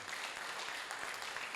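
Congregation clapping in a church service in praise of the Lord, a steady wash of applause heard faintly at a distance, with no voices over it.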